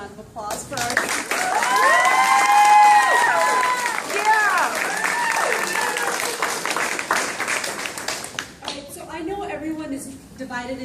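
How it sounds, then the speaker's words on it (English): An audience breaks into applause and cheering for the group being addressed, a dense clatter of clapping under whooping voices that builds, holds for several seconds, then fades before a single voice carries on speaking. "can we have another round of applause for our"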